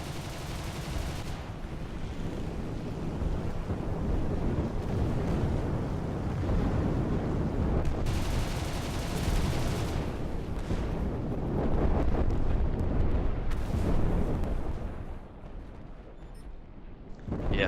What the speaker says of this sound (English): He fires his cannons in frustration.